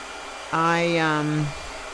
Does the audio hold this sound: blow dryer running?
yes